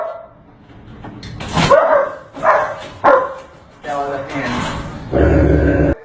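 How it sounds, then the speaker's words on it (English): An aggressive dog shut in a crate barks, yips and snarls in short loud bursts as it bites at a broom pushed inside, with scraping and rattling close to the microphone. "As I put the broom in the crate, the dog bites the broom"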